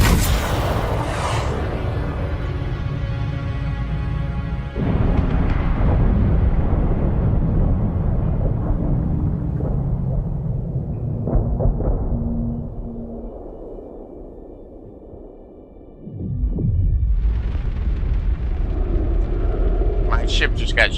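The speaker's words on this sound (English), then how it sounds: "My ship just got shot down" Ship shot down in Dune Awakening: loud booming explosions and rumbling blasts fill the game mix, with a sharp impact early on, a lull, then renewed crashing bursts near the end.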